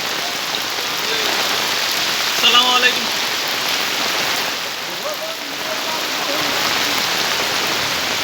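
Heavy rain pours steadily in Sylhet, Bangladesh, a loud dense roar of drops on surfaces, with a faint voice or tone briefly rising through it.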